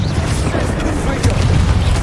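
The Confringo fire-blast spell in Hogwarts Legacy erupts as a dense, rumbling burst of boom and crackle, loud and sustained with a second swell partway through, over steady game noise.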